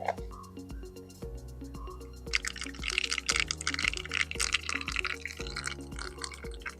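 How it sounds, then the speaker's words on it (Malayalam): Soft music plays, then a dense crackle of mustard seeds spluttering in hot coconut oil bursts in partway through and keeps popping under the music. "വെളിച്ചെണ്ണ ചൂടായിട്ടുണ്ട്. നമ്മളതിലേക്ക് ലേശം കടുക് ഇടുകയാണ്."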